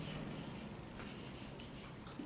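Marker or chalk writing on a board during a chemistry lecture: a continuous series of close, soft scratchy strokes and squeaks in quick irregular bursts, with no talking over them.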